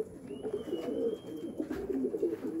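Racing homer pigeons coo softly in a loft, with low rolling repeated coos overlapping, close and fairly quiet, alongside faint rustling.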